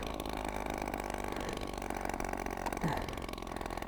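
A 1960s moped engine running after decades off the road, a steady mid-pitched buzzing drone with slight rough pulsing, close and continuous.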